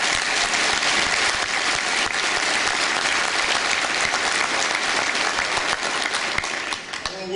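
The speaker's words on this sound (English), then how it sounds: "So again, if we could give him a round of applause." Sustained, loud applause from a conference audience at a Florida law enforcement lodge gathering, with a dense, even roar of clapping throughout.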